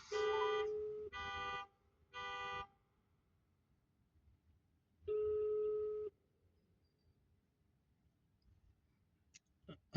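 A telephone busy signal sounds as a phone call is placed, three evenly spaced tone bursts followed by a fourth after a pause, then near silence with faint clicks at the end.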